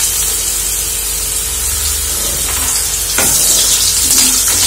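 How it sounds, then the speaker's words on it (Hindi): Potato pieces for crispy honey chilli potatoes frying in hot oil, a steady loud hiss and sizzle throughout with a burst of bubbling crackle toward the end. "अब इसको डाल के इसमें हम फ्राई कर लेंगे इस तरीके से।"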